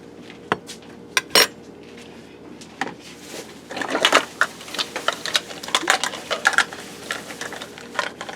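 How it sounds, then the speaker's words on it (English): A spoon being cleaned in a home kitchen while apple pie is being made, giving sharp metallic clinks and scrapes, sparse at first, then a busier run of tapping and clattering against dishware. "now I clean the spoon."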